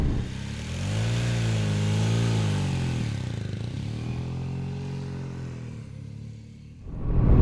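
A BMW R 1250 RT touring motorcycle pulls away from a standstill, its engine note rising and falling through several throttle swells before easing off, then surging again at the end; nearby and fairly loud, with no talking.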